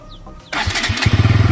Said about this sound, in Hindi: मैं तुमको इसकी एग्जॉस्ट साउंड सुना देता हूँ, जो कि कंपनी फिटेड आती है